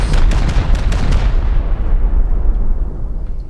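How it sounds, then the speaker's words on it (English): Rockets exploding against walls during a raid in the video game Rust, heavy booming blasts at the start trailing into a loud, rumbling decay that fills the rest of the clip. "Let's pop 29 more rockets at this point."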